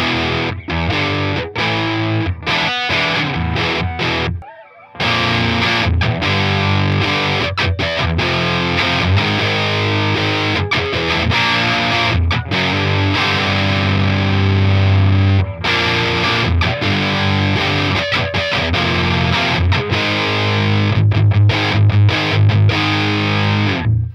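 Electric guitar run through a Walrus Audio Melee pedal, playing a dense, sustained distorted tone with a light wash of reverb, loud and continuous with a brief drop-out near the start.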